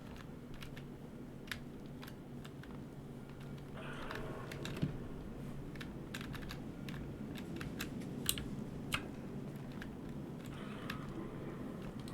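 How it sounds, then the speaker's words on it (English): A computer keyboard is typed on during a Mass Effect 2 game session, with scattered sharp key clicks, some in quick runs and some isolated, over steady background hum. "Okay, my keyboard didn't want to work for a second there."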